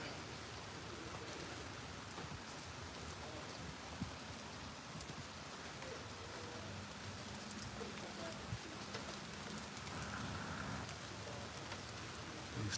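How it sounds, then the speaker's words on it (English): Light rain drizzles during an afternoon thunderstorm in Tampa, Florida, as a soft, even hiss of fine drops that stays faint and steady throughout. A low murmur of voices sits underneath. "We got that light drizzle as it was when it first started."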